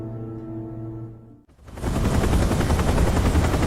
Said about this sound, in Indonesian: Para VIP tiba menggunakan helikopter.